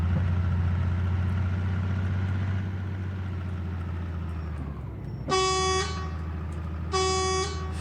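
An International 9800 American truck idles with a low rumble in Truck Simulator Ultimate, then its horn blasts twice, a longer honk followed by a shorter one, loud and close over the engine.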